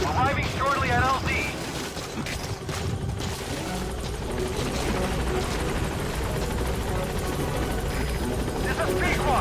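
Helicopter rotor and engine noise from the B-Quad support chopper arriving in Metal Gear Solid V, a loud steady drone running the whole time, with radio voices and scattered gunfire-like bursts mixed in.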